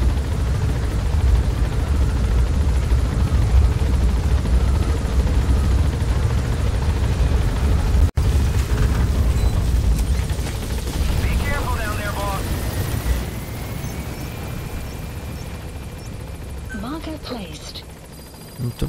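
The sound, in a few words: helicopter in video game Metal Gear Solid V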